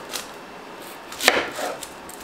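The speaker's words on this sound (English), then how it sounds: "Gonna cut this in half right here." A knife cuts through food on a cutting board to halve it, giving a few crisp, close chopping knocks, the loudest near the middle, with no talking.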